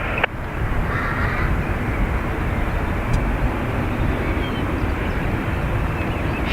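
A plane takes off from runway 28 Right at Dublin Airport. A steady, loud jet roar fills the whole stretch without letting up, and a faint crow caw rises once.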